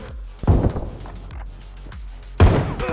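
A grenade lands close by in PUBG Mobile on a Bedwars-style map, giving two heavy, separate thuds about two seconds apart, each loud with a short boom that fades out.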